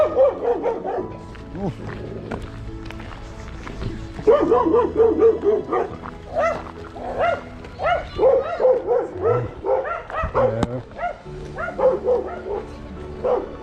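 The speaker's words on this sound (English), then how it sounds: "A little sheepdog." Small sheepdog on the outskirts of Batumi, Georgia, barking and yipping repeatedly in bursts at close range, with occasional whimpers and a brief spoken exclamation.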